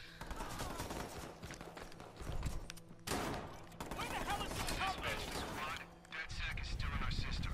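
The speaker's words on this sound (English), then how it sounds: "Oh, I'm getting shot." Rapid gunfire in the action game Watch Dogs, continuous crackling shots and clattering impacts filling the scene under a busy game mix, with brief louder bursts throughout.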